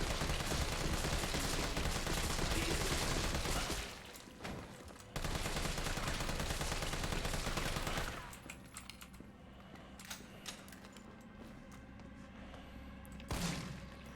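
Sustained, dense assault rifle fire in Resident Evil 3 Remake rattles loudly for about four seconds, pauses, bursts again, then gives way to quieter thuds and ambience.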